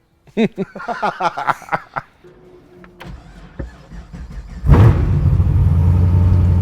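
An 800-horsepower supercharged 1969 Camaro widebody starts up after a series of rapid cranking pulses and a few clicks, then settles into a loud, rough, choppy idle rumble that holds to the end.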